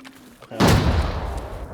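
In the video game Arena Breakout Infinite, a sudden sharp gunfire blast and MK grenade explosion burst out after a quiet moment, then a booming rumble decays over the following second.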